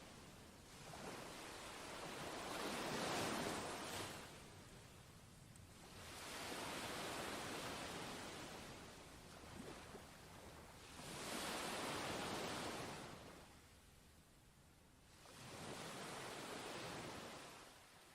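Sea waves near a lighthouse rolling in and washing out in slow, broad surges about every four seconds, a steady roar with no voices.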